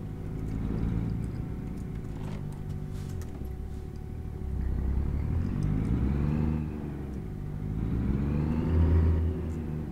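A car driving offroad in Nebraska after missing a turn, its engine a steady low rumble that swells twice as it pushes over rough ground, with no talking.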